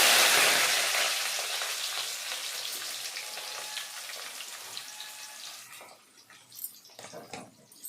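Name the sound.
onions and green chillies frying in a pan on the stove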